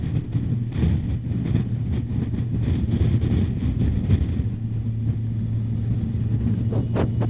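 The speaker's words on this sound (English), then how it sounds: "God, that wind is pushing me about everywhere." Strong wind buffets a moving motorcyclist, a heavy, continuous low roar and rumble mixed with engine drone, loud and steady throughout with no talk.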